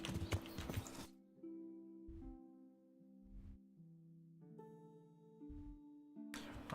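Horse hooves clip-clop in Kingdom Come: Deliverance, a few soft, spaced thuds under steady sustained background music, with louder noisy bursts at the start and end.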